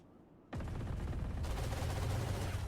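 Odin machine gun sprayed in Valorant during a VCT Americas Kickoff esports match; after a quiet moment, sustained rapid automatic fire begins abruptly and continues steadily to the end, loud and close.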